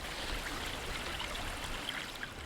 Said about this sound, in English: I think I can hear the sound of water